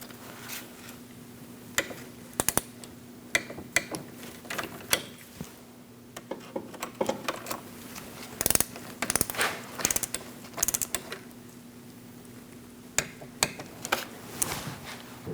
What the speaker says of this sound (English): So let's snug those up and torque them to 72 inch-pounds.